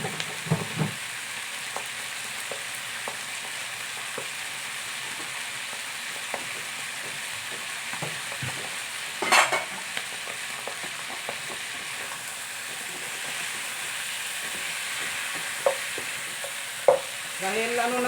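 Pork sizzles in hot oil while browning in a pan for tenola with mung beans, a steady crackling fry broken by occasional stirring scrapes and sharper spatters, close and fairly quiet with no talking.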